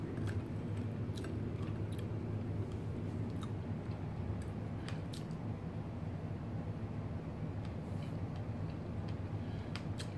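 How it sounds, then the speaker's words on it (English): Close-up chewing of seasoned salmon with garlic and parsley, soft steady mouth sounds and small wet clicks over a constant low background hum, with no talking. "let's take a taste of our salmon."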